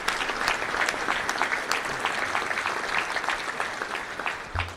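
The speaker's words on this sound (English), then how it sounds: "Let's give them a round of applause." A crowd at a touchdown club luncheon gives a warm round of applause, many hands clapping in an even, continuous patter at moderate loudness throughout, with no speech on top.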